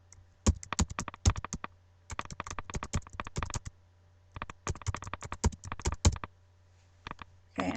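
Fingers type in fast, close clattering bursts on a computer keyboard, with brief pauses between runs of keystrokes over a steady low hum.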